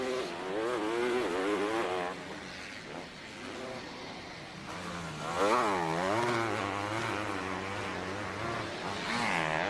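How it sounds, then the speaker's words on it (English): Motocross motorcycles race on a sand track at a 250 moto, their engines revving and shifting pitch continuously, loud and sustained, with several bikes rising and falling as they pass. "you can hear the thing revving out here and there"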